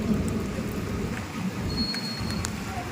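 Steady rainfall hisses throughout, a dense continuous patter of drops with a low rumble underneath.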